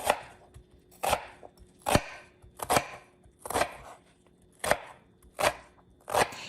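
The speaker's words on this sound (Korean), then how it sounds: "양파는 반 개 정도 준비했고요. 요것도 잘게 썰어 주시면 되겠어요." Half an onion is chopped finely with a knife on a cutting board, in short bursts of quick, crisp blade knocks repeated at a steady pace, close and clear, with no talking.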